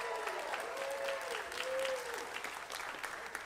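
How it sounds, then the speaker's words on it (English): A live crowd at an evening comedy show claps steadily throughout, with a faint tone sliding underneath the applause. "Give him some applause there."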